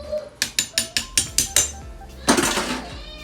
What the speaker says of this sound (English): And just to try to give it a last good stir.